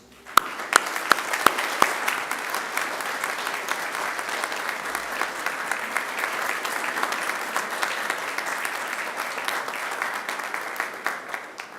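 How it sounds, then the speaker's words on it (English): Sustained applause from a graduation ceremony audience at Macquarie University, a large crowd clapping steadily and densely throughout, with a few sharper individual claps standing out near the start. "give the people who have brought you this far, supported you all the way, a huge round of applause"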